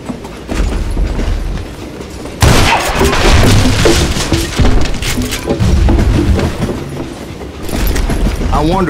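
A train in the Western game Call of Juarez: Gunslinger rumbles along at full volume, with a heavy, continuous rolling din, clanking and booming impacts, and surges of mechanical noise over nine seconds.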